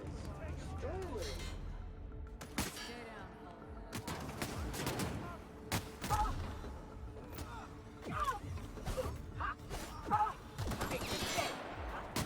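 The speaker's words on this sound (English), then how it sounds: "He's shooting." An enemy firing a gun in The Outer Worlds, repeated sharp shots scattered through a busy game scene with mechanical clatter, while a voice talks over the action.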